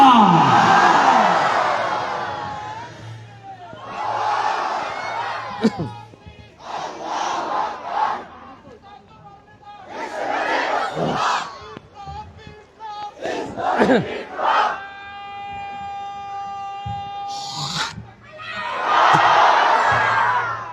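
At an Islamic cultural gathering in Kushtia, a large crowd shouts takbir in loud, repeated unison bursts with pauses between them, answering a single voice that leads the chants.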